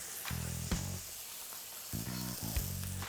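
Cuban frita burger patties sizzle in a hot pan with a steady, close hiss, broken by a few sharp pops and a faint low hum that comes and goes.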